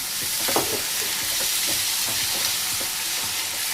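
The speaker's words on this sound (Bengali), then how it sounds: "এবার দিয়ে দেবো অল্প একটুখানি জল" A little water is added to potatoes frying in a pan with tomato and onion for a curry. A steady, close sizzle and bubbling continues throughout, with faint stirring taps.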